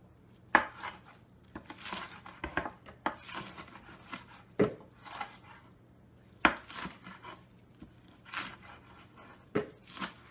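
Vegetables being cut into pieces for kimchi, a series of close, crisp knife strokes and slicing rasps in irregular bursts, with sharp taps on the board between quieter pauses.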